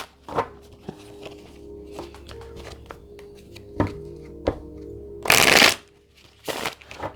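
A Keeper oracle card deck being shuffled in close, crisp bursts of riffling and tapping, with a loud dense flurry near the end and scattered softer card handling and thumps between.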